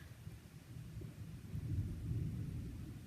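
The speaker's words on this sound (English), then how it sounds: "Oh, there's my thunder." Low thunder rumbles on and off, swelling louder toward the end, heard from indoors beneath a tin roof.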